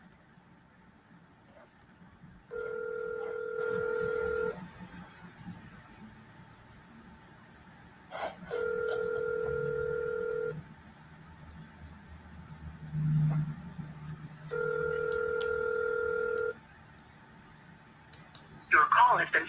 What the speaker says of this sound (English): We're triple dialing the guy.